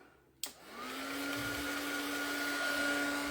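A heat tool or dryer clicks on and spins up into a steady, close whirring blow with a rising whine as it dries paint on an art journal page.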